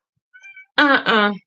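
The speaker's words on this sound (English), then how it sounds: "Sorry, that's my cat." House cat meowing indoors: a short, soft meow followed by a louder, drawn-out two-part meow, close by and alone without speech.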